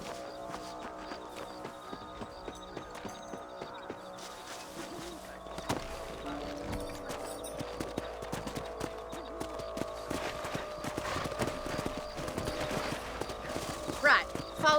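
Horse hooves clip-clop steadily while riding in the video game Red Dead, a rhythmic trot under character dialogue and ambient game sound, with an occasional whinny near the end.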